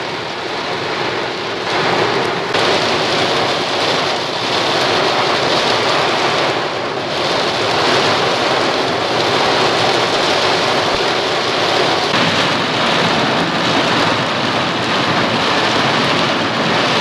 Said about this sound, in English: that is some rain.